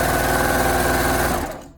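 A sewing machine stitches arm warmer fabric in a fast, even run of needle strokes, close and loud, winding down and stopping at the end with no talking.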